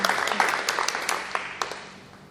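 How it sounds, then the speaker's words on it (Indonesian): Audience applause at an Indonesian teacher training dissemination session: a patter of claps that fades out over about two seconds. "Kita beri tepuk tangan untuk Miss In."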